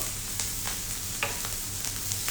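Onions go into a hot pan for pav bhaji, giving a steady, close sizzle with a few soft stirring scrapes throughout.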